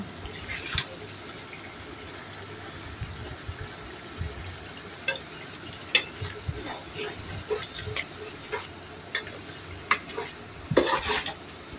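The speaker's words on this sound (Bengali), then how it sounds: "আমি আরও কিছুক্ষণ রান্না করে নেব আর ভালো করে নাড়াচাড়া দিয়ে দেব।" Homemade herbal hair oil with leaves simmers in a pan, its soft continuous sizzle joined by repeated clinks and scrapes as it is stirred, close and moderately loud throughout.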